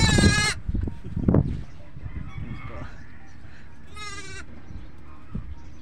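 Sheep, some white and some brown and black with curly wool, bleat in two loud, harmonic calls near the start and again near the end, with muffled bumps and a quieter, faint call in between.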